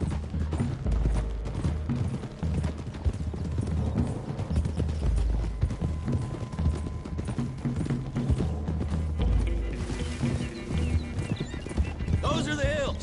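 Horse hooves clip-clop steadily on a trail in the Red Dead Redemption II video game, several horses moving together with whinnies and creaking tack and gear, while voices talk over the rhythmic beat of the hooves.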